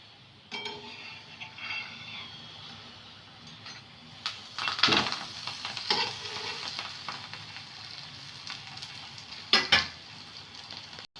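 Aloo kulcha frying in oil in a pan at home, a steady soft sizzle running throughout with louder bursts of crackling and a few light utensil clinks against the pan.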